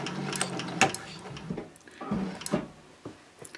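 Home sewing machine stitching fabric for an all-purpose caddy, short bursts of rapid mechanical chattering with brief pauses between runs, close and fairly quiet.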